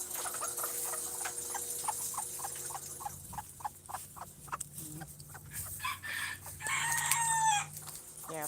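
Chickens cluck steadily in a backyard coop while a rooster crows loudly near the end, with repeated short calls and scratchy movement close by.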